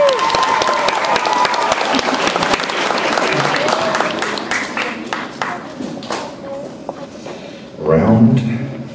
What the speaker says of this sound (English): let's give a round of applause to Jason Sardou